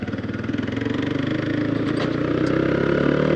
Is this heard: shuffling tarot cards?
no